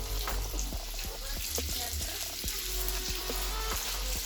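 Floured sea bream sizzles in a hot pan, a dense steady frying hiss with small crackles and pops, close and constant for a few seconds.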